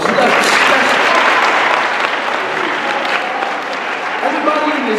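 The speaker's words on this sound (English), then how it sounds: "Everybody give themselves a round of applause." Students at the LBMS Black History Month Celebration break into loud, dense applause that holds steady from start to finish, filling the room with continuous clapping.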